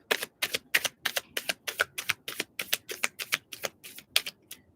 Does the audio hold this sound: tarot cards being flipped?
yes